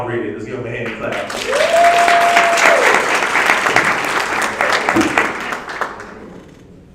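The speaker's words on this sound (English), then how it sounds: "let's give him a hand clap." Sustained applause from a graduation crowd in Pitt County, steady broadband clapping from many people with a brief tonal squeal partway through, tapering off toward the end.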